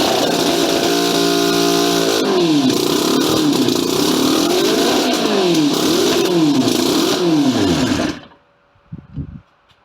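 Racing lawn mower engine, newly timing-adjusted, roars loud and close at high RPM with repeated rising and falling revs, then cuts off abruptly, leaving brief faint clatter.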